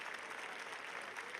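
A stadium crowd in the London 2012 Olympics video game applauds, a dense even wash of clapping and cheering at low volume, sustained with no pauses.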